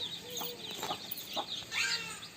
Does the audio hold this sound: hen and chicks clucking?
yes